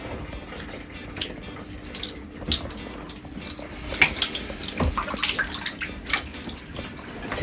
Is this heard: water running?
yes